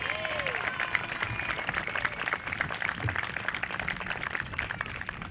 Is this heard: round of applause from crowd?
yes